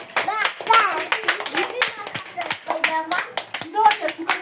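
Hands clapping in a quick, uneven burst from a small group at a birthday party, mixed with excited chatter and children's voices close by.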